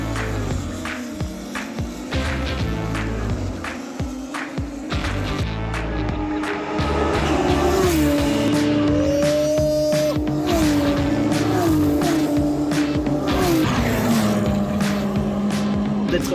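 Caterham race cars launching from a standing start, engines revving high and rising in pitch as they pull away, a loud dense roar of several cars close by that swells and holds, with a voice briefly heard early on.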